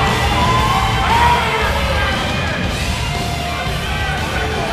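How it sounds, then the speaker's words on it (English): An arena crowd at a wrestling event cheers and yells on its feet, a loud continuous roar with shouts rising from it throughout. "You can see this crowd is on their feet."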